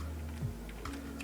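An IP address is typed on a computer keyboard in a few soft, close keystrokes over a steady electronic hum.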